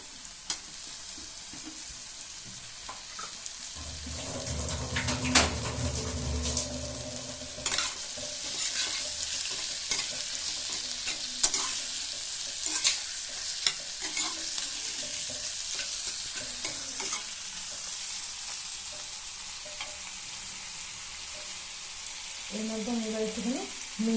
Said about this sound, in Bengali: টমেটো কুচিগুলো দিয়ে দেবো